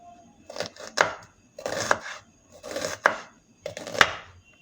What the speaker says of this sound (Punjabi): ਪਿਆਜ਼ ਨੂੰ ਤੁਸੀਂ ਇਸ ਤਰ੍ਹਾਂ ਪਤਲਾ ਕੱਟਣਾ ਹੈ